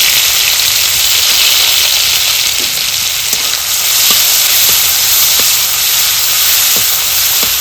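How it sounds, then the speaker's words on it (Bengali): Crushed garlic and dried red chillies sizzle steadily in hot oil in a pan, a loud continuous hiss with a few small crackles and pops scattered through it. "এবারে তেলটা গরম হয়ে গেছে, রসুন আর শুকনো লঙ্কা থেতো করে রাখা এর মধ্যে দিয়ে দিই"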